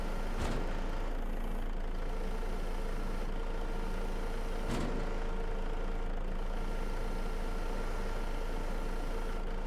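A heavy truck engine labours under a load of logs in a PC game, a steady low drone with a continuous hum, two brief sharp knocks cutting through at the start and midway.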